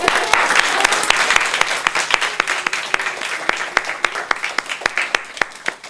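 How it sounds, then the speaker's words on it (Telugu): Audience applause at a documentary event on superstition, a crowd clapping with distinct sharp claps standing out in an uneven rhythm, gradually thinning. "క్లాప్స్"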